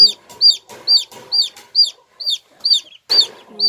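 Chickens cluck close by in short, sharp calls, about eight of them repeating at a quick, fairly even pace over a few seconds, with little else in the background.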